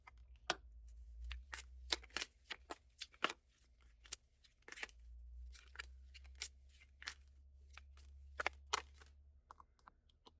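Pokemon oracle cards being shuffled and handled, a quiet scatter of crisp clicks and riffling snaps in irregular bursts over a low hum.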